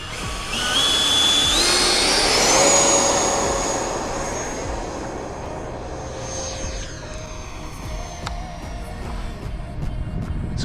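A remote-control model jet flies past with a loud whining turbine that rises in pitch, peaks and then fades into the distance, leaving a fainter hum and some background noise.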